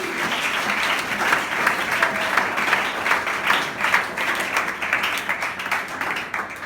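A church congregation applauds in a steady, dense wave of clapping that holds at an even volume throughout, with a faint murmur of the crowd underneath.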